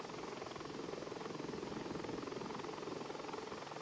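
Steady, dense rotor and turbine roar of a Bell 412 helicopter in cruise flight, heard from inside the cabin as a loud, continuous drone with a faint rhythmic blade pulse.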